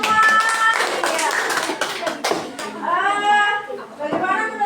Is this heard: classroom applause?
yes